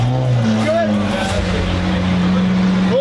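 A Lamborghini engine cranks and turns over close by, a steady low drone running under people talking nearby.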